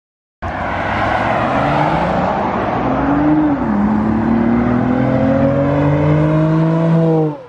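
A Lexus IS 350 F Sport fitted with a new aftermarket exhaust drives past. The engine note rises and swells loudly, bends as the car goes by and keeps a strong, droning exhaust tone to the end, with no voices.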